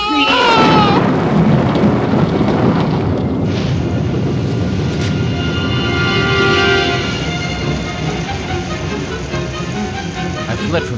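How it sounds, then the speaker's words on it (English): A thunderstorm sound effect in a dramatized Poe tale rumbles loud and continuous, with a low roar that persists throughout and no voice over it. "The storm was still abroad in all of its wrath"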